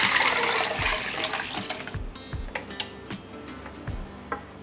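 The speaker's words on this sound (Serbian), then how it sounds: "I preko šećera ću sipati 2 litre vode." Two litres of water poured over sugar in a pot, a loud rushing pour for about two seconds, then sparse drips and light taps in the quiet that follows.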